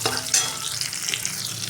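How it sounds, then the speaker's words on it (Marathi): Green chillies frying in hot oil with garlic over a high gas flame, a steady close sizzle with stirring scrapes throughout. "छानपैकी आपली मिरची तेलामध्ये फ्राय झालेली आहे."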